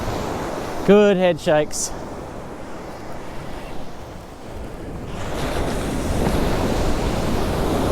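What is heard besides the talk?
ocean waves and surf on shore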